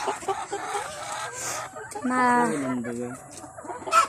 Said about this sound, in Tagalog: Ayan ang mga kulungan ng manok.